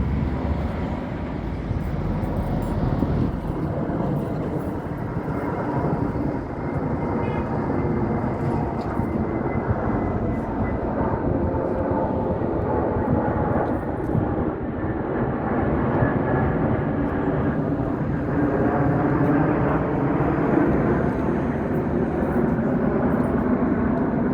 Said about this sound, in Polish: piękny samolot leci